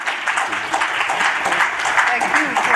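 Dense, steady applause from a conference audience, many hands clapping continuously throughout at close range with no pauses.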